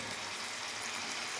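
Egyptian shakshuka with eggs and tomatoes simmers in a covered pan, giving a steady, close frying hiss that runs evenly throughout with no talk.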